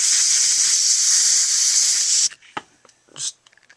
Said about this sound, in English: I'm just going to use pressurized air right now